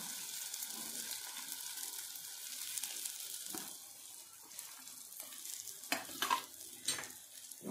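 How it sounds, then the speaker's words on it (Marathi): Sago pearls being stirred into a pan of fried green chillies, giving a soft sizzle with scraping stir strokes and a few sharper clatters near the end, with no talking. "इथे आपली ही मिरची छानपैकी फ्राय झालेली, याच्यामध्ये आपल्याला टाकून घ्यायचा आहे साबुदाणा"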